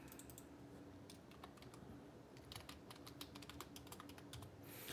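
Rapid, irregular clicking of a computer keyboard as notes are typed, close and fairly soft, continuing steadily for several seconds without speech.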